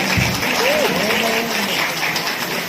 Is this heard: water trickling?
no